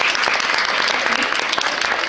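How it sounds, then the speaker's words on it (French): Audience at a regional dance competition selection round claps loudly and continuously, a dense, close wash of applause welcoming a solo dancer, with no talk over it. "Qu'on accueille sous vos applaudissements,"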